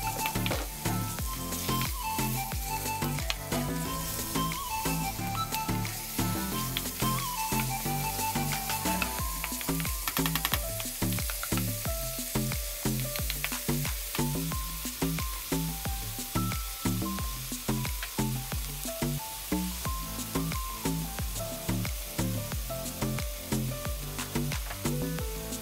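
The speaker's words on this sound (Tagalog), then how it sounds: "Kapag mainit na ang mantika, ilalagay na natin ang tinadtad na sibuyas, bawang at luya." Chopped onion, garlic and ginger fry in hot oil with a steady sizzle and crackle, broken by frequent stirring scrapes and clinks throughout.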